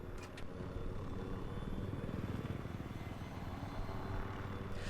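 Scout helicopter in the video game Battlefield 4, a steady rotor and engine drone holding at moderate level throughout with a couple of brief sharp clicks near the start.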